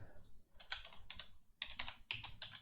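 Keystrokes on a computer keyboard as a command is typed at a Windows 11 command prompt, coming in short clustered bursts of quick clicks with brief pauses between, close and moderately quiet, with no talking.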